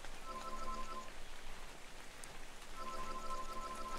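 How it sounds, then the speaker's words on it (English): Acid rain patters down in ARK: Survival of the Fittest, a constant close hiss of drops striking surfaces, with faint tonal game sounds coming and going underneath and no speech. "Acid rain just pisses me off"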